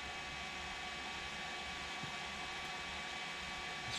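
A universal 12V car heater fan runs steadily inside a car, giving a constant close whirring blow with an even hum and no speech.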